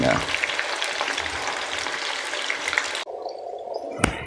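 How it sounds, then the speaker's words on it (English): Ingredients fry over a medium flame in oil left from frying onions for mutton biryani, a dense close sizzle that continues for about three seconds, drops away abruptly into a softer hiss, and ends with a sharp clink. "Now I've reduced the flame to medium, and just going to let them fry."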